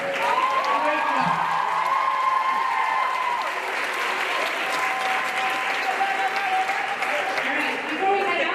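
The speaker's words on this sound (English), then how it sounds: "Let's hear it one more time for the four candidates here today." Loud, sustained applause from a large crowd, steady clapping filling the room, with voices calling out underneath.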